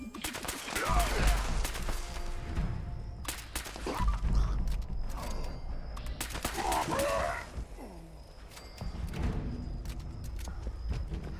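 Crusader pistol fire in Fallout 76 while fighting super mutants: repeated sharp shots in irregular bursts across the scene, mixed with footsteps, mechanical clanks and game effects, close and fairly loud.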